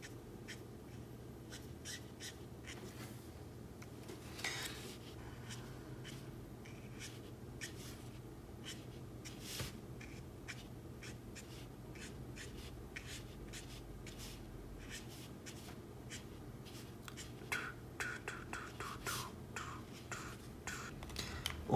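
A marker shading paper in dark purple while coloring a drawing of the anime character Hisoka; steady soft scratchy strokes, close and quiet, repeating in quick irregular bursts over a long stretch with no speech.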